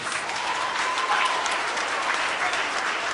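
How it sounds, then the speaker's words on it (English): A theatre audience applauds at the end of a play, a full, continuous roar of many clapping hands, loud and close, sustained without a break from start to finish. "Give yourself a wonderful round of applause."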